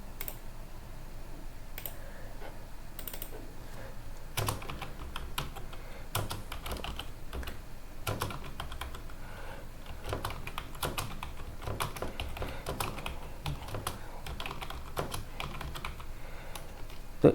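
Rapid typing on a computer keyboard during a railway clerical typing skill test, a steady run of close, crisp key clicks with occasional louder strokes, heard alone without voices.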